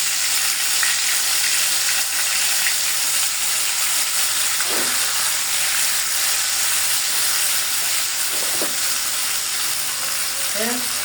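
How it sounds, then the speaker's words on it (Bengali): Smoky chicken fries in ghee in a covered pan over charcoal, giving a steady, loud, continuous sizzle and hiss throughout, with a few faint clinks of utensils. "তা আমার স্মোকি ভাজা শুরু করে দিচ্ছি"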